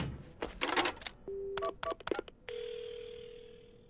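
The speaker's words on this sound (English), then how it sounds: "Right, the phone. I gotta call an ambulance." Telephone dialing in the video game Paranormasight: a short burst of key clicks, then several quick tonal beeps, followed by a steady sustained tone, clear and alone.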